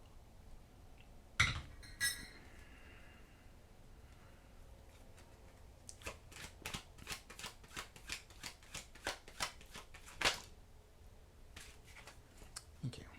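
Tarot cards shuffled to draw a last card, a few sharp taps early on, then a run of quick rhythmic card flicks and riffles from about six seconds, close and moderately quiet.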